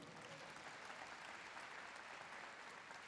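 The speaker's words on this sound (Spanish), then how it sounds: "Un aplauso al Espíritu Santo." Sustained applause from a church congregation, a dense steady wash of many hands clapping, fairly distant and quiet, with no pauses throughout.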